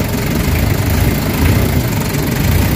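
A Nissan Vanette engine runs steadily after a hot engine treatment for low power and throttle delay, giving a loud, close, continuous rumbling drone with no speech.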